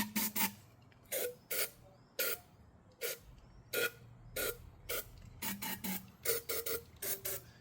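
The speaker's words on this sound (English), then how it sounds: "I'm just going to spray a little bit of release spray down there." Repeated short hissing bursts of aerosol release spray on the valves of a 1987 Yamaha FZR1000, about fifteen quick puffs in irregular rhythm, some in rapid pairs, close and crisp against a quiet background.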